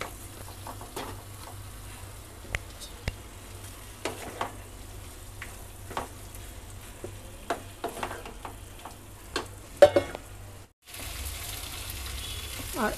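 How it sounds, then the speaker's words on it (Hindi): Paneer fries in a pan with a soft, steady sizzle, punctuated by occasional clicks and scrapes of stirring, close and fairly quiet. "और ये पनीर को भी डाल देते हैं।"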